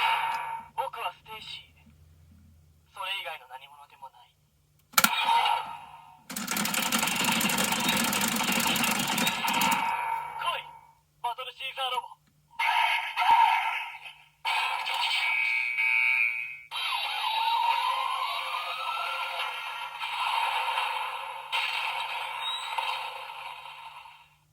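Electronic voice phrases and sound effects from a Premium Bandai DX Geartozinger toy, with bursts of chiming tones, a loud noisy blast and melodic jingles, the electronic voice announcing phrases across the sequence.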